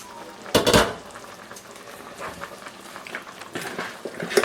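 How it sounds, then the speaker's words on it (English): Vegetables go into a pot of brown stew chicken with a loud clatter of pan and utensil, then softer scraping, stirring and faint sizzling that picks up again near the end, close by with no voices. "Now I'm gonna go ahead and add all my vegetables in."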